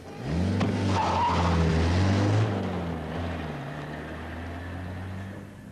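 A car pulls away fast with a loud tyre squeal and rising engine roar, then fades as it drives off into the distance.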